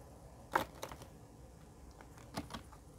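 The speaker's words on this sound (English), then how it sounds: "Boy, I try so hard to shuffle these neatly" A deck of Tarot of the Cloisters cards is shuffled by hand, giving a few soft, brief riffling bursts against a quiet room background.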